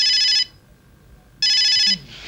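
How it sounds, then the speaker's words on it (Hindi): A mobile phone ringtone sounds loudly in two bursts of bright electronic tones, separated by about a second of near silence. "ये मेरे मोबाइल की घंटी है, ये मेरे लिए बज रही है।"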